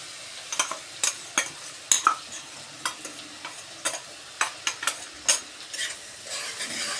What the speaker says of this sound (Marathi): चांगला परतून घेऊया